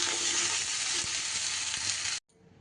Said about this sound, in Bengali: সজনে ডাঁটা আর বেগুন কিন্তু আমি বেশি সময় নাড়ব না, জাস্ট একটু এদিক ওদিক করে নাড়াচাড়া করে নিয়ে সমস্ত সবজিটা ঢেলে নিতে